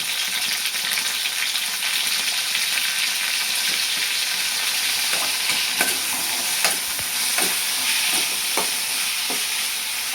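Mustard seeds crackle in hot oil on low heat as turmeric goes in, tempering a drumstick bhaji. A steady sizzle runs throughout, with sharp spatula taps and pops scattered through the second half and no talking.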